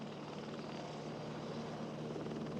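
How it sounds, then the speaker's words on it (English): A helicopter's steady, dense rotor-and-engine drone holds at an even level throughout, quiet and unbroken, with no voices over it. "I hear Helicopter."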